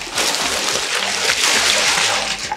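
Ice being dumped into a container of cold water for an ice challenge, a cluster of close splashes and sloshing with clunks of ice over about two and a half seconds.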